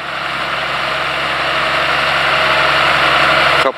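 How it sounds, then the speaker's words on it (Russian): A John Deere tractor towing a heavy Grimme EVO 290 potato harvester climbs a small hill, its engine droning loud and steady throughout, with a brief change in tone at the very end. "Трактор без напряга заезжает на пригорку."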